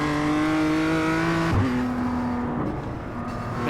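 A race car engine at the Ledenon circuit drones loudly and steadily with a strong tonal whine, dipping briefly at one shift point before the driver holds the throttle through the exit.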